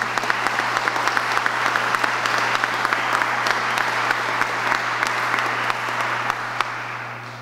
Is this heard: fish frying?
no